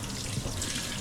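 Steady hot water streaming from a Hike Crew portable water heater shower inside a tilted truck camper, a constant close, full-bodied rush that stays even from start to end with no voices.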